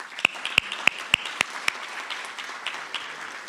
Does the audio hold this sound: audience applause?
yes